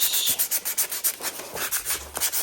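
Old finish sanded off a wooden china cabinet, a quick series of soft rhythmic rubbing strokes, close and fairly quiet, with no voices.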